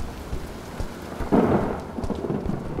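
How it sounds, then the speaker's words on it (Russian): Rain patters steadily outside a window in an abandoned hospital in the horror game Deadly Broadcast, and a soft roll of thunder swells briefly midway before the rain carries on. "Там, видимо, дождь за окном."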